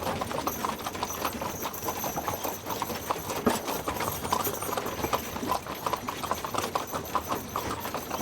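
A wagon pulled by a mule and a horse on a wagon train rolls along, with steady clip-clopping hooves over continuous rumbling wheel and road noise, moderately distant.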